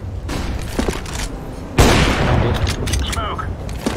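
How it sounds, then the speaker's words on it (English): A grenade blast in Counter-Strike: Global Offensive rips through ongoing gunfire, a sudden loud boom that decays into crackling noise while player chatter continues over it. "Throwing a grenade."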